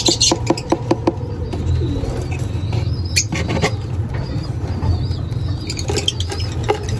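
African lovebirds let out of their cage chirp and squeak in quick, scattered bursts, with fluttery rustling and soft calls close by, and no talking over them.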